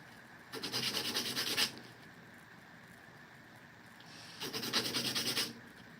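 Sharp edges of circuit boards for a PVS-69 night vision build are sanded by hand, producing two soft, close rasping bursts about a second long each, separated by a quiet pause.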